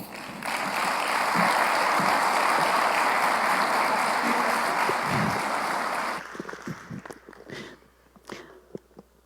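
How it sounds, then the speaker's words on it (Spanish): Sustained applause from an audience at an insurance-market forum in Guatemala, loud and dense for about six seconds, then thinning into scattered claps and a few sounds of movement. "Recibámosla con un fuerte aplauso."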